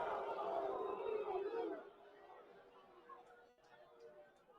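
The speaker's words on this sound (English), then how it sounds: "And the crowd, as you can probably tell, did not agree with that call." A college baseball crowd at a Stanford versus Clemson game reacts to a ball-three call on an inside pitch, with a loud swell of murmuring and jeering voices in the opening seconds that fades to distant chatter.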